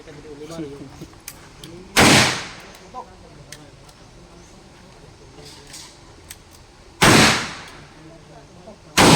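Two sharp rifle shots crack several seconds apart on a firing range amid quiet background murmur, with a third shot beginning right at the end.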